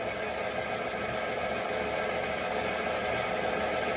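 An electric mixer whirs steadily through cookie dough that is not mixing properly, a continuous close motor drone with no pauses and no talking.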